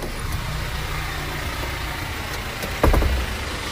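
A delivery vehicle's engine running steadily nearby, a continuous low rumble with a short louder thump near the end and no talking.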